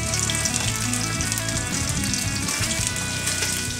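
Mushrooms and other food fry in a pan, giving a steady, loud, close sizzle and crackle that runs through the whole stretch, with a tonal hum in the background.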